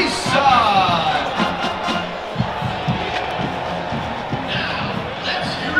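A stadium crowd at a Colorado vs NDSU football game roars and chants in a dense, continuous wash of voices, loud and sustained throughout, with a whistle-like call near the start.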